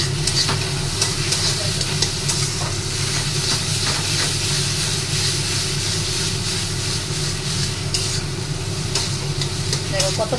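Bottle gourd and shrimp mash frying in a pan, a steady dense sizzle with stirring scrapes running throughout at close range, no voices over it.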